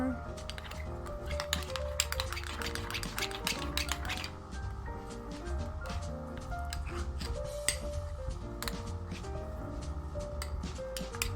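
Homemade belly rub cream is stirred in a container, with rapid light clinks and taps of a utensil against the sides, close and steady under a speaking voice.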